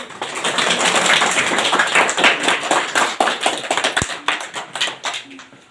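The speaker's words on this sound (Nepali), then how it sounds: "ताली तो बजाओ" Audience applause at a memorial ceremony in Lower Aluwari honoring martyred mountaineer Sange Sherpa, a dense, steady clapping of many hands that swells and then thins out over several seconds.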